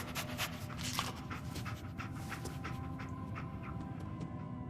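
Dogmeat, the German Shepherd companion in Fallout 4, pants quickly and softly with a faint whimper over a low, steady background hum.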